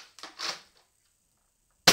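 A toy gun is cocked with a couple of short clicks and scrapes, then after a pause it fires once with a sharp, close snap.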